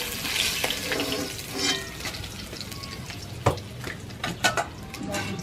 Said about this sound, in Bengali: বাকিগুলো ভেজে নিচ্ছি আমি।